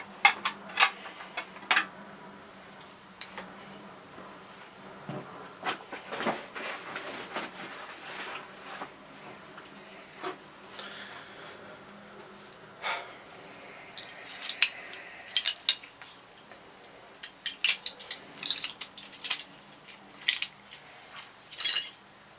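A wooden spoon being hand carved from round dowel with wood carving tools, a quiet run of close, irregular scraping and snipping cuts with brief pauses between strokes.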